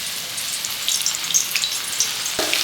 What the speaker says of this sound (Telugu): ఇప్పుడైతే నేను కొంచెం అరటికాయ చిప్స్ అయితే వేస్తాను